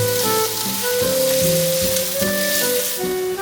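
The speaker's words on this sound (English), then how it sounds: "You can hear that sizzle as it hits the hot pan, and she begins to sear it with the garlic." Ground yak meat sears with garlic in a hot wok, giving a loud, steady, close sizzle and crackle with occasional stirring scrapes throughout.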